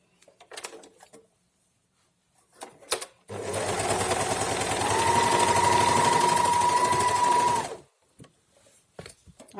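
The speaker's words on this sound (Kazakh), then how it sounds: "арқасына тігіс бердік, соны оверлоктаймыз" An overlock sewing machine stitches the back seam of a vest in one loud, steady whir of about four seconds. Short clicks and handling knocks come before and after it.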